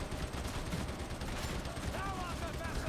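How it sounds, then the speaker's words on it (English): Rapid gunfire into an enemy horde in Warhammer 40,000: Darktide, a dense continuous rattle of shots under a busy wash of game noise. "Try and get some bullets into the horde"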